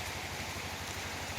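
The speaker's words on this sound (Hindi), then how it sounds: "पिछले 2 दिन से लगातार बारिश हो रही है" Steady rain falls on a village threshing yard where harvested paddy lies, a dense, loud, continuous patter of drops close by with no voices.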